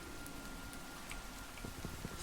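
Steady, quiet rain falling in the Minecraft modpack TerraFirmaGreg, a soft continuous patter with no voices.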